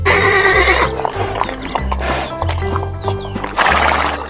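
Toy horse with a neigh and whinny call over a steady clip-clop of hooves, loud and close, repeating in bursts with no talk.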